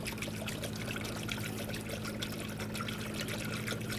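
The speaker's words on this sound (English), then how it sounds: "Now you want to take the appropriate coolant and fill up the reservoir." Coolant is poured into the reservoir of a 2004-2008 Ford F-150, a faint, steady trickle of liquid continuing throughout at close range.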